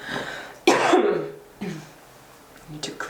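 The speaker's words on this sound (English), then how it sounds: "clear my throat" A person clears their throat twice with rough, gravelly bursts, close to the mic, followed by a softer third rasp.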